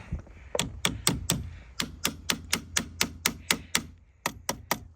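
Sharp metallic hammer taps in quick bursts, about fifteen strikes in uneven groups, close and fairly loud over a quiet background, as a small hammer seats a car battery in a 2019 Traverse, Acadia or Enclave.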